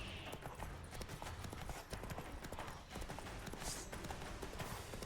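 Roach the horse galloping in The Witcher 3, quick rhythmic hoofbeats drumming steadily over game ambience, fairly faint and close.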